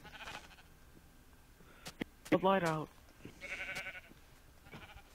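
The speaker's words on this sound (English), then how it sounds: "Oh, here we go. Sheep!" A video game sheep gives one clear, wavering bleat at close range amid quiet game sounds, with someone speaking briefly around it.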